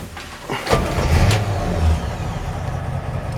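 A cold 1965 Chevrolet C-10 shortbed pickup engine cranks briefly and fires up, settling into a loud, steady low idle rumble close by.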